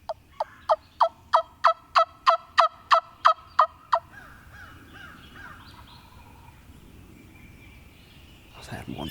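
A wild turkey gobbles in a rapid run of about a dozen sharp, rhythmic notes, then quieter outdoor ambience follows with faint distant calls and a rustle at the end.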